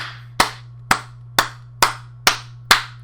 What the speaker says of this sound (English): let's clap this one out